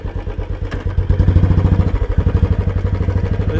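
A motorcycle engine runs close by during a short ride, giving a steady, rapid pulsing rumble that grows louder and fuller after the first second and continues with no talk.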